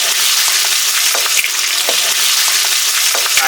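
Cumin paste frying in hot oil in a pan for chicken dum biryani makes a loud, dense, crackling sizzle, with light utensil taps scattered throughout.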